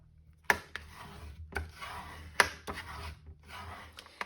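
A paper card base being scored, folded and burnished, with a few sharp taps followed by short dry rubbing and scraping passes, close up and alone.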